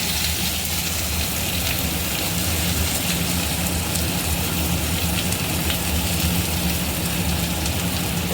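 Onions dropped into very hot oil fry with a dense, even sizzle, loud and close, a continuous crackling hiss with no break and no voices.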